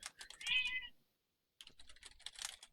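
A house cat lets out a short, close meow amid light keyboard tapping, followed by a pause and more quiet clicking.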